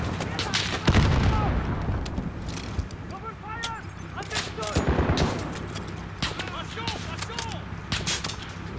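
Battle gunfire in Call of Duty Modern Warfare: a continuous chaotic exchange of automatic rifle bursts and scattered heavier booms, near and distant, with voices talking amid the fighting.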